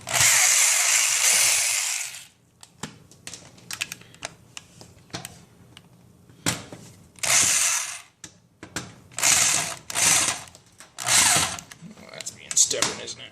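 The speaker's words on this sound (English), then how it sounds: "you have to undo these 2 screws here" Screws are backed out of the plate of an LG convection oven, with bursts of harsh ratcheting and driver noise alternating with small clicks and taps at close range.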